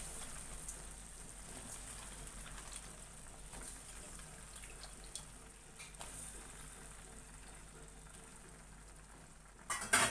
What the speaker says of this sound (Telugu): ఇవన్నీ ఇప్పుడు బాగా కలుపుకుందాము. వంకాయ ముక్కలు శుభ్రంగా కలుపుకుందాము.